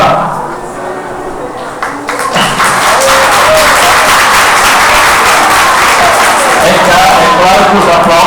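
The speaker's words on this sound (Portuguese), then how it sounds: "É claro que os aplausos são parciais" Audience applause at a university event welcoming a guest, rising after about two seconds into dense, sustained clapping from a large crowd that fills the rest of the stretch, loud and close.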